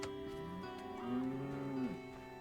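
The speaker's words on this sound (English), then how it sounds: "At least the cow's still alive." A cow in The Witcher lets out one long, low moo that rises and falls over quiet ambient game background.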